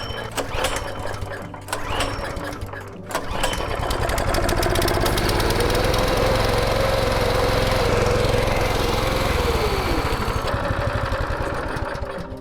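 Small petrol engine on a lawn dethatcher pulls over and catches, then runs steadily at a loud, close, buzzing pitch before the revs drop near the end.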